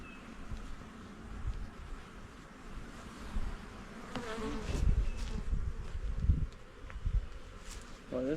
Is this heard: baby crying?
no